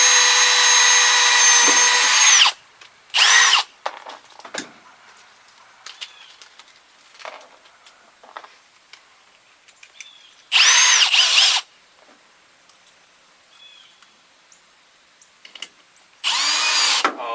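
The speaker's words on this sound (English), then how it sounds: "So get a small drill bit, a little bit smaller than that, and go ahead and drill some holes." A power drill with a small bit whirs loudly in several short bursts drilling small holes, separated by quiet gaps filled with faint clicks and handling noises.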